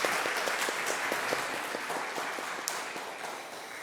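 Church congregation applauding at the close of a completion ceremony during Sunday worship, steady many-handed clapping at moderate distance, fairly even and slowly tapering.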